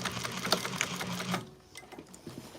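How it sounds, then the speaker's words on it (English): Sewing machine back-stitching over the 90-degree corner of a handbag seam, a steady fast mechanical whirring up close for about a second and a half, then stopping into quieter shuffling. "I like to just kind of go over that, back stitch over it an extra time"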